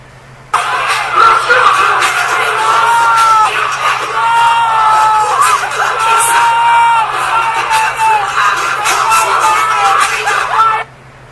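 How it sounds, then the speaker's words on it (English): A large live crowd roaring loudly and continuously for about ten seconds, a dense wash of voices that could be booing a performer, starting abruptly and cutting off at the end. "They booed her so much."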